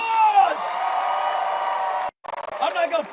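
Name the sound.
parade crowd applauding and cheering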